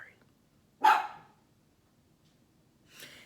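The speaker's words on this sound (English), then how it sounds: "Sorry, my dog, Penelope." A pet dog gives one sharp, loud bark close by, followed by silence and a fainter second bark or huff a couple of seconds later.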